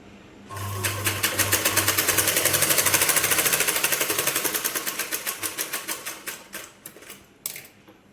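A sewing machine stitches blouse piping in a fast run of rapid, regular needle clatter that starts suddenly. It gradually slows into separate stitches before it stops, close and clear, with no talk.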